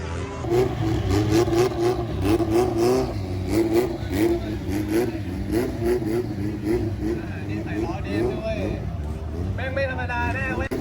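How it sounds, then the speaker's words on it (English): Two Toyota Supras rev at a Thailand car meet, their engines pulsing in repeated rising and falling surges over crowd noise, while someone talks loudly over them throughout. "The battle of the Toyotas. I think they both might be Supras."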